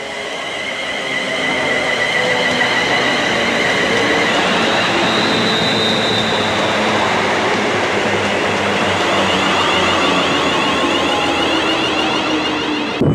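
A train pulls into Barstow Green station, loud and close, its wheels rumbling and squealing as it draws up, with the noise holding steady before cutting off at the end.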